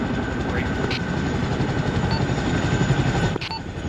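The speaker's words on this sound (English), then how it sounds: "Chinook is coming in for LZ at this time." A Chinook helicopter comes in to land at a landing zone during a training exercise, its loud, steady rotor and engine roar filling the whole stretch before easing slightly near the end.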